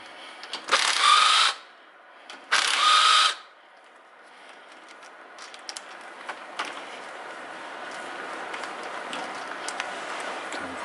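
Power drill driving out screws on a Fiat 126p, two loud whirring bursts about a second each, followed by quieter clicks and handling noise of the small car being worked on.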